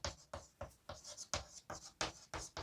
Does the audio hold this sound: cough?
no